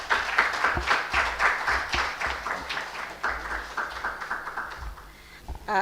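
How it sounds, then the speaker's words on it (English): Audience applause at a roundtable with media executives in Nigeria, a moderately distant, steady patter of many hands that gradually thins and softens toward the end. "I think that applause is not loud enough."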